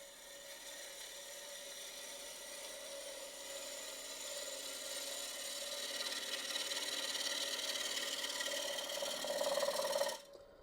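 A woodturning tool cuts ornamental cherry wood spinning on a lathe at about 1,000 rpm, giving a continuous scraping whir with an intermittent hammering chatter that builds before stopping abruptly near the end.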